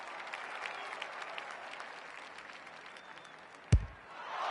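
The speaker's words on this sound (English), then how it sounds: "The crowd noise tells you all you need to know." Sustained applause and cheering from a stadium crowd at a women's Australian rules football match between WWTWFC and Collingwood, a steady distant roar with one sharp thump near the end.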